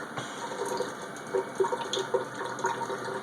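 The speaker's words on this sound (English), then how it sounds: "And the water just kind of running in a dribble, hitting the sink." A tap runs in a thin dribble into a sink, a quiet, close trickle with small splashes, while a SimplyGo portable oxygen concentrator hums and cycles softly in the background.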